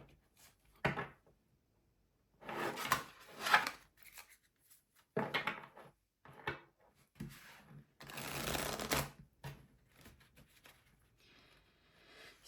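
Tarot cards being shuffled by hand in repeated bursts of riffling and sliding, close and fairly quiet, with short pauses between passes and no talking.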